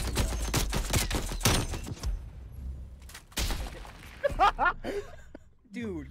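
Gunfire in Call of Duty Cold War during a 2v2 Search and Destroy match: a rapid burst of sharp, loud shots up front, then a further volley, with players talking over the action.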